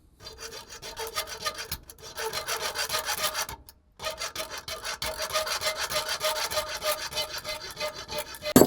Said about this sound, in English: I'm gonna need a hacksaw blade.